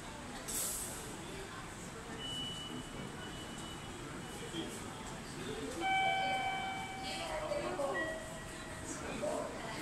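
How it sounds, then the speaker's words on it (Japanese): 383 series Shinano limited express train departing platform 1 at Kanayama, a faint, distant rolling rumble with a tonal chime and platform announcement tones over station ambience. "1番線から列車が発車します。"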